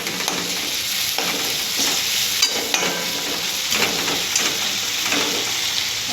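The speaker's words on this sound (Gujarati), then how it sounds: "ટમાટર નાખી અને અસલ મિક્સ કરી દઈએ" Tomatoes stirred into bitter gourd curry sizzling in a pan, with a steady frying hiss and repeated spoon scrapes at an even rhythm, close and fairly loud, with no talking.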